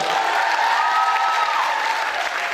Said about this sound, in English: Applaudissez tout le monde.